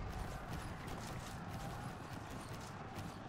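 Mounted horse archers in the Conqueror's Blade video game ride past, their hooves making a faint, steady clatter of clip-clops under soft battle noise.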